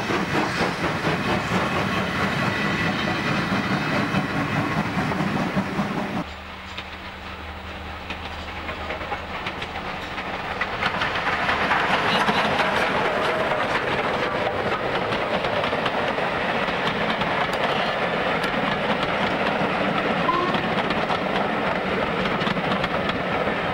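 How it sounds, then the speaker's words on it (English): Standard goods steam locomotive 165 of New South Wales, with low-slung cylinders, pulls away from Hexham on a down local train: a loud, continuous rumble and clatter that dips briefly, then swells again and holds steady, with no voices. "The 165 departs Hexham with a down local."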